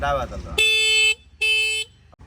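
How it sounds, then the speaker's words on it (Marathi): A new TVS Raider motorcycle's horn is tested with two loud, steady electric honks of about half a second each, heard up close just after a brief voice. "हॉर्न चेक करून घे"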